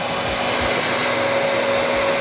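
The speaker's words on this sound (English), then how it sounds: "Did you hear the sound the motor made when the vacuum cleaner was switched on?" A vacuum cleaner motor runs steadily with a loud, constant whine and airy hiss, close by and alone.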